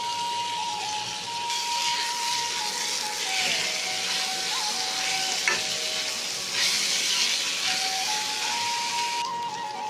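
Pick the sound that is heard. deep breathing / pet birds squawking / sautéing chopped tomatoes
sautéing chopped tomatoes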